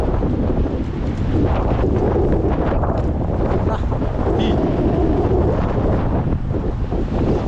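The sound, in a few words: strong wind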